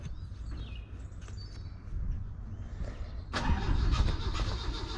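A 1968 Renault R8 engine hums nearby and then surges louder as the car pulls away, with faint birdsong in the background.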